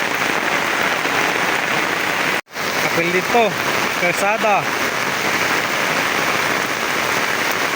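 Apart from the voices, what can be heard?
heavy rain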